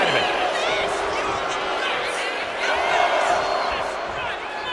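A wrestling arena crowd in the WWE 2K25 game roars and cheers in a steady mass, swelling in waves, while a commentator's voice talks over it.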